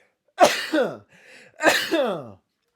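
Two loud sneezes close together, each a sharp breathy burst, separated by a quiet intake of breath.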